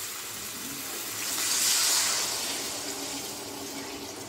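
A cup of water pours into a pot of potato and egg curry in a home kitchen, a steady soft rushing that swells briefly and fades, with no talk.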